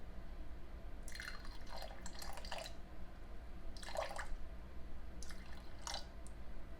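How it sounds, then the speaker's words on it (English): Filtered water trickles and splashes into a glass jar in short bursts, quiet and close, with soft dripping between pours. "I'm then going to take my filtered water and I'm going to pour it in"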